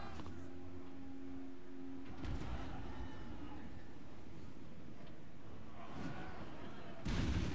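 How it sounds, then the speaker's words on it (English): A Hell Cannon fires in a Total War battle, two heavy booms, one about a third of the way in and a louder one at the end, over an ongoing low battlefield rumble. "Wow, another good hit by that Hell Cannon."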